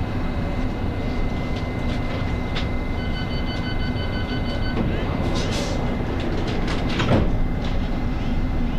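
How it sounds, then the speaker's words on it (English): A London Underground District Line train runs toward Wimbledon with a constant loud rumble of wheels and motors throughout, plus occasional squeals and clicks from the track. "This is a District Line train to Wimbledon."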